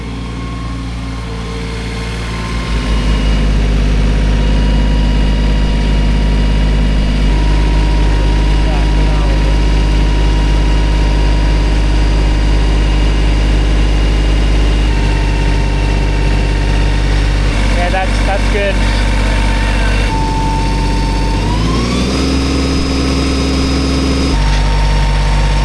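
A tractor engine strains to push a heavy pallet of solar panels, a loud, steady low-pitched rumble with its pitch shifting as the load moves and the engine works harder.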